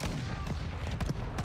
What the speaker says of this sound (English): Whoa, getting sniped.